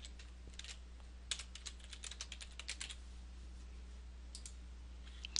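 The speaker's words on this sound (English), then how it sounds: "Now first I'm going to add a title, and this is going to be Test for Video." A note title is typed on a computer keyboard, a quick run of crisp, close key clicks in uneven bursts, then a few scattered taps amid quiet room hum.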